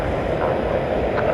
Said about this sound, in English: It's American Flight 2688.